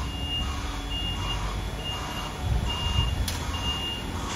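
A lorry backs up on a farm with steady reversing beeps repeating at a regular pace, set against a constant engine rumble and low background noise.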